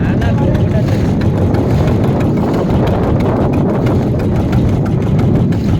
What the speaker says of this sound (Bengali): দেখো গাইস, জাহাজটা কত রানিংয়ে যাচ্ছে দেখো